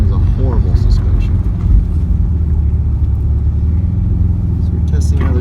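A 1998 Chrysler Sebring Coupe LX's exhaust drones low and steady while driving on a bumpy road, heard from inside the car as a constant rumble.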